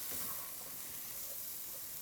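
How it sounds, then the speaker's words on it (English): Beef and other ingredients sautéing in a pan for beef stroganoff, a soft, steady sizzle and hiss close by, faint and continuous with no one talking. "So I got that sauteing."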